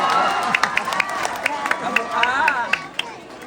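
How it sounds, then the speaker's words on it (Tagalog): An audience at a national costume pageant claps and cheers, with sharp scattered claps and crowd noise under a voice speaking over a microphone. "bakit na ninyo po subukang palakpakan at hiyawan ang nag-isang tunay na kawangis ni Miss Katrina Halili"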